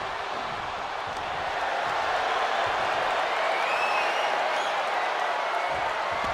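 A wrestling arena crowd roars continuously at a distance, a broad swelling wash of cheers and applause filling the space without clear individual voices.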